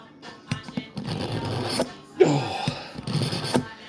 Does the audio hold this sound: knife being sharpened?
yes